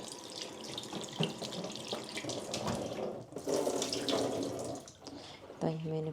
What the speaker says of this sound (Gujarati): અને એક પાણીથી આપણે ધોઈ નાખીશું